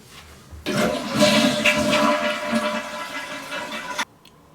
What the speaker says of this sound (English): you're going to want to flush your toilet probably about 3 times to drain all the water out